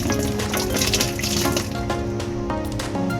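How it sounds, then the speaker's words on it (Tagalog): Water pours and gushes into the drain of a washing machine, a continuous loud splashing stream with a few knocks and clatters mixed in, close up and with no talking. "Sa buhusan mo kaya ng tubig mo."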